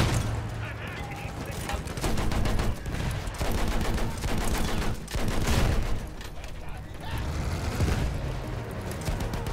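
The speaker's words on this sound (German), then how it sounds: "Da schießt irgendwas." Dense, continuous gunfire and explosions rumble through a Battlefield 1 World War I battle, with rapid overlapping shots and heavy booms forming a loud, chaotic wall of combat sound.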